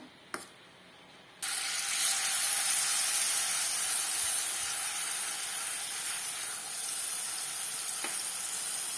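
Mashed banana dropped into hot ghee in a pan, a brief knock and then a loud, steady hissing sizzle that carries on to the end, with no voices.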